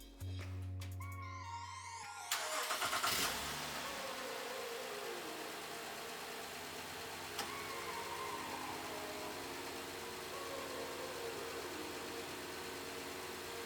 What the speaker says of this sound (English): and then we're going to crank the engine